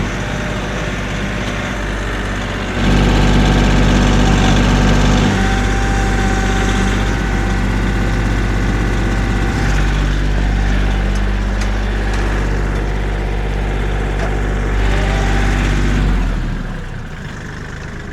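A Subaru car engine runs steadily at a loud, close level for about thirteen seconds as it pulls into a driveway on a cold day, then winds down near the end.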